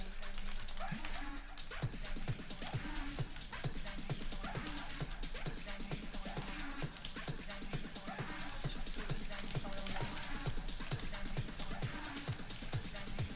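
Video game dogs barking and whimpering in a busy, dense mix, short yips and whines repeating over a constant backdrop of game noise and a low hum, no clear talk.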